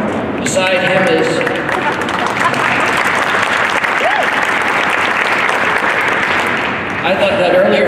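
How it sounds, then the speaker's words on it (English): Audience applause at an indoor announcement event, loud continuous clapping filling the room, with faint voices and murmurs at the start and end. "I thought that earlier applause was for me."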